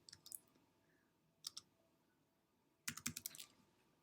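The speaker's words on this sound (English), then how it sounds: "In the search box, type in the word Party and then click on Enter." Keys on a computer keyboard tapped in short, sparse bursts: a few quick clicks, a pause, a brief pair, then a faster run of typing and a final click, close and fairly quiet.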